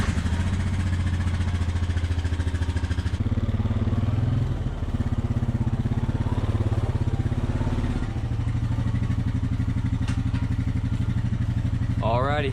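A 2021 Honda Foreman 520 ATV engine runs steadily while ridden, with a continuous low mid-pitched drone that shifts in load around midway and eases briefly before picking back up, close and loud throughout.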